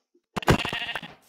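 Sheep bleating in the video game Minecraft: a single close, loud bleat follows a brief faint blip, with no talking.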